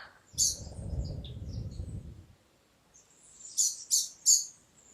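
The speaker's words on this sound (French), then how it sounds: "Je ne sais pas si tu entends l'oiseau qui est à côté de moi" A bird close by gives short, bright chirps, a few early and a quick cluster of three near the end, over a quiet background with a brief low rumble at the start.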